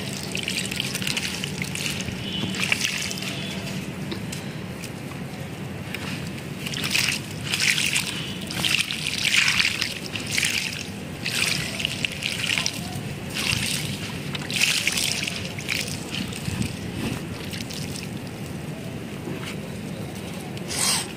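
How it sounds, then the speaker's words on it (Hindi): Water poured into potted sugarcane plants over a thick layer of coarse sand, a steady splashing and trickling that runs the whole stretch with brief surges, close by and fairly loud, no talking. "पानी एक ही बार में दे देने का है इसमें"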